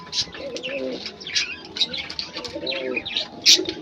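Pet fancy pigeons in a home loft give repeated low coos with several overlapping calls, mixed with brighter chirps and chatter from other birds close by.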